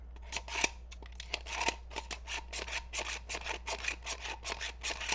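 Scissors snip rapidly and repeatedly while being sharpened for craft use, a close, crisp run of metallic cuts with a steady rasping edge, heard alone over a low hum.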